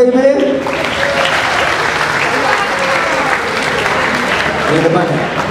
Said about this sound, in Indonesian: Oke, tepuk tangan buat DPIB.